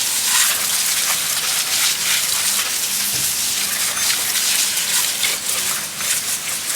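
Water sprays and splashes steadily over a dirty K-Series engine as a detailing brush scrubs off the grime during a light wash in a garage, a continuous close hiss with little else heard.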